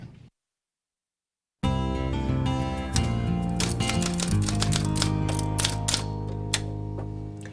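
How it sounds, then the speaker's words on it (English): Someone types on an antique typewriter, a quick run of crisp keystrikes starting after a brief silence. The keys clatter over a continuous tonal background. "Let me get a shot of that antique you're typing on."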